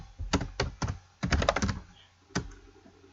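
Typing on a computer keyboard, a quick burst of key clacks, a pause, then a cluster of rapid presses and one final tap, close and crisp.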